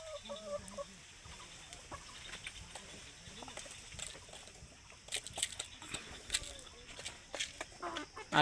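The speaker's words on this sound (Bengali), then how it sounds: "ফাউমিগুলো সারাদিন এদিক ওদিক দৌড়দৌড়ি করে।" Fayoumi chickens clucking and scratching around on a farm, irregular close-up clucks and rustles over a quiet outdoor background, growing busier toward the end.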